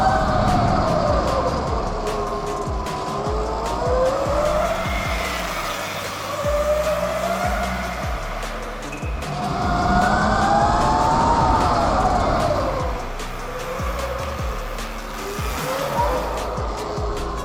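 An electric supermoto motorcycle drifts around a karting track, its rising and falling electric whine sweeping past loud and close with scrubbing tire squeal through the turns, no talking.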